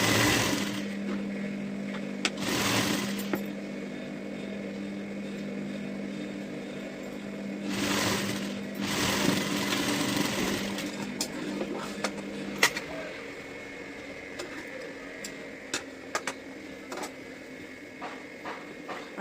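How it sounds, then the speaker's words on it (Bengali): A sewing machine stitches a folded fabric strip onto a blouse, its steady motor hum running continuously for the first half before stopping, followed by quieter handling clicks and small taps. "আমি পট্টিটাকে এবার ভাঁজ করে সেলাই দিয়ে নিলাম"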